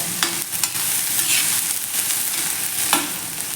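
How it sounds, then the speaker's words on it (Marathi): Green tomatoes roasting in hot oil in an iron pan, a close, continuous sizzle and frying crackle with a few sharp stirring scrapes and no talk. "चांगले तेलामध्ये भाजून घ्यायचं आहे शक्यतो लोखंडी तवा किंवा लोखंडी कढई तुम्ही वापरा"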